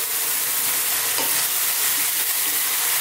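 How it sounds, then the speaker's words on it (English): Fresh tomatoes and chili fry in a pan for a lamb curry, giving a steady, close, loud sizzle with faint stirring scrapes and no voices. "what we're going to do is cook this"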